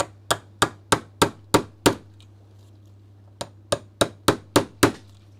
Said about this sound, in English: I'm going to go for the actual hammer.